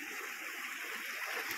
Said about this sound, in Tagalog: Lakas ng tubig, ka-adventure.